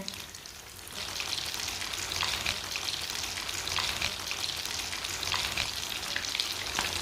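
Potato patties (aloo tikki) fry in hot oil in a pan, a steady close sizzle with fine crackling and spitting that rises after the first second and carries on without a break, with no voices.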